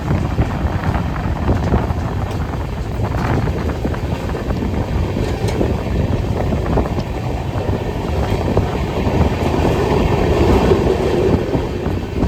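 Steady, loud rumble of a train at Thivim railway station in Goa, with wind buffeting the microphone throughout and no voices, the dense noise holding constant from start to finish.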